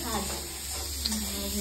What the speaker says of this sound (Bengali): এখানে মা রান্না করছে